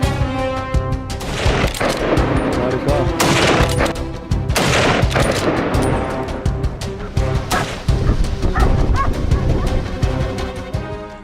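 Hunting hounds bark in quick repeated bursts during a wild boar hunt, loud and close, with sharp overlapping yelps and crashes filling the whole stretch.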